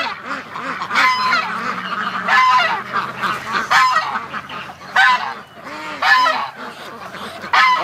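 Canada geese honk repeatedly in overlapping bursts, a loud, busy flock chorus that rises and falls throughout, with ducks nearby.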